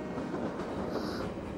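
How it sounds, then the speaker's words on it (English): A cartoon train pulls out of the station, producing a steady rumbling rail roll with faint clickety-clack and a brief high squeal, loud and close with no voices. "It's really the train that's moving, Caillou."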